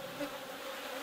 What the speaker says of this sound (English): with all these other bees flying around it probably won't take long before they change their mind